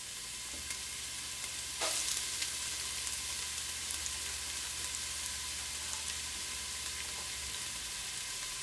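Celery tossed into red onions already frying in a pan for a vegan pot pie, giving a steady close sizzle with a brief clatter as the pieces land and scattered crackles throughout.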